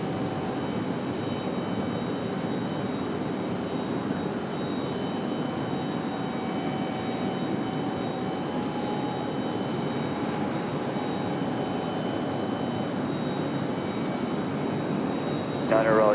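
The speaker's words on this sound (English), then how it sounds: "Next arrival is that Delta coming up from Atlanta. Delta 2026, 737-900." A Delta Boeing 737-900 arriving at Raleigh Durham airport, a steady broadband jet roar that holds evenly throughout with a faint tone above it, sounding moderately distant.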